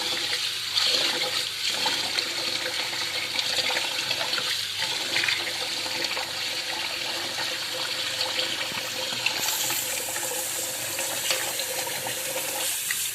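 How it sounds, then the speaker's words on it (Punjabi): Water runs and splashes steadily into a basin for the whole stretch, a continuous gushing rush with small shifts as rice is swished around in it to wash it. "ਇੱਧਰ ਆਪਾਂ ਚਾਵਲ ਧੋਵਾਂਗੇ"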